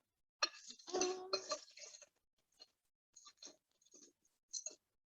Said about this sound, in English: 300 grams of ice cubes